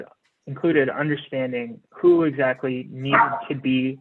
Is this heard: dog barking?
yes